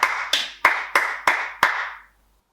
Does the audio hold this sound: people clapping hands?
yes